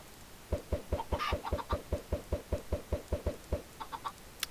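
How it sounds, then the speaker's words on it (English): A run of steady, evenly spaced chicken clucks from the video game SoulCraft, a dozen or so in a row, near and moderately loud, with no voices. "Oh my god, there's freaking chickens."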